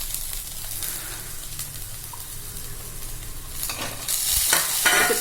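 Boiled green beans are stirred into sizzling paruppu usili in a pan, with a continuous close frying hiss. Louder scraping and clattering pick up toward the end as the mixture is turned.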